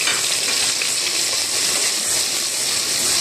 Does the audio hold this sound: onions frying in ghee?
yes